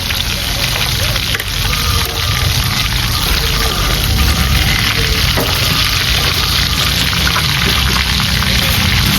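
Fried eggplant omelette with longanisa drains in a pan, excess hot oil hissing and crackling loudly and steadily throughout, a dense unbroken sizzle close by.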